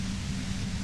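Steady radio static from the video game Disco Elysium, a dense, even hiss with a low hum underneath, constant and unbroken.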